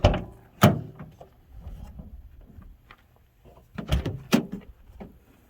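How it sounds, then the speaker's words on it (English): Rear doors of a budget van conversion swung open, giving a sharp latch clunk and thump near the start, then quieter rattling and handling, followed by two more loud clunks toward the end, close by with no talk. "So when I open both of those doors"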